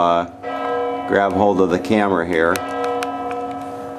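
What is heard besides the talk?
church bell ringing at Wawel Castle, Krakow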